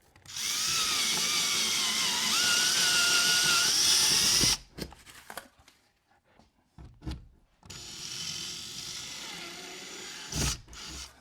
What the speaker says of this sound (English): So we'll drill out here